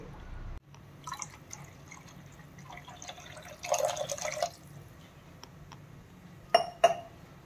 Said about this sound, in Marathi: आता मी थोडं अजून पाणी टाकणार आहे।